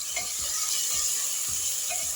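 Onion and tomato fry in a pan with crushed ginger, garlic and curry leaves, giving a steady bright sizzle with a few soft stirring scrapes, close and continuous.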